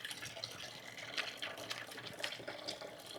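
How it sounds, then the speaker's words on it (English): Hands being washed under a running kitchen tap while preparing herbed baked chicken, a steady close wash of water with small splashes and rubbing, no talking. "I'm over here washing my hands again."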